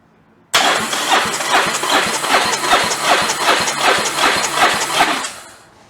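A Yamaha Virago motorcycle engine cranks on the starter for about five seconds, a loud, steady, rhythmic churning of even compression pulses that stops abruptly into quiet.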